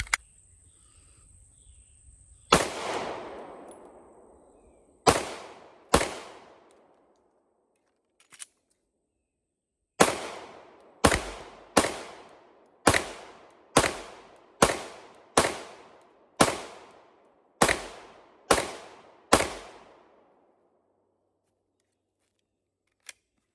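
Handgun shots fired at an outdoor shooting range: about a dozen sharp single cracks, each trailing off in a short echo, some spaced seconds apart and others in quick succession, loud and close with no talking.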